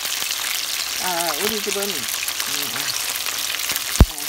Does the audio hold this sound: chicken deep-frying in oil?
yes